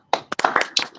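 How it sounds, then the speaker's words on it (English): A few light, scattered hand claps from a small studio audience on a morning talk show, close and brief, fading out within a second. "give a light golf clap."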